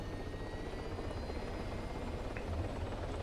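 A steady, droning helicopter rotor hum in ArmA 3 fills the scene, constant and fairly close, with a brief higher mechanical chirp near the end; no one speaks.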